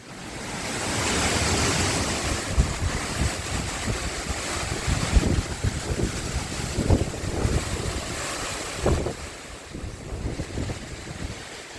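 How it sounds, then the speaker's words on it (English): Gusty Hurricane Ian wind roars across the microphone in continuous buffeting blasts, loud and close, surging and easing over about twelve seconds with no talk. "As you can see, it's still a little breezy."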